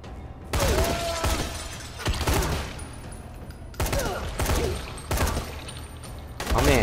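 Bursts of automatic gunfire in the video game Dying Light come in loud, close volleys with short pauses between them, and a voice speaks in between.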